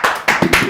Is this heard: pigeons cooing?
no